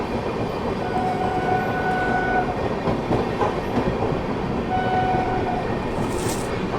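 Yoga Express train from Ahmedabad to Rishikesh at a station, a steady loud rumble of rail cars with two long, sustained horn blasts, near and continuous.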